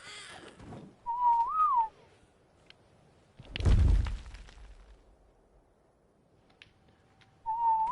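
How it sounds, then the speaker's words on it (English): Rising and falling whistled tones from the Ark Survival Evolved video game, a whistle stop command repeated twice, with a loud crashing burst between them. "For some reason, this thing doesn't listen to whistle stop commands."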